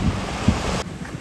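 Ocean waves wash ashore at a white-sand beach in the Canary Islands, a broad rushing surf mixed with wind buffeting the microphone, close and steady, with no talk.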